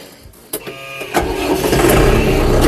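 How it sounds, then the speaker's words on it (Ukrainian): A Scout TB-904 C tractor engine cranks with a couple of sharp clicks and turns, then catches and settles into a steady, close, fairly loud idle. "заводимо свого тракторця, скаута"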